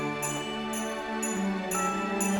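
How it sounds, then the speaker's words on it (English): A cello carries the main melody of a classic Christmas orchestral cue, its sustained bowed notes sitting over a full, lush synth pad, with a repeating bright high accent recurring throughout. "And we get straight into a cello"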